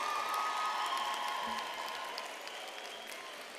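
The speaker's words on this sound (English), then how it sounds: "let's give our graduating class of 2021 a big round of applause" A large audience at a university arts and design graduation ceremony gives the graduating class a steady round of applause, a dense wash of clapping that slowly fades, with faint cheers.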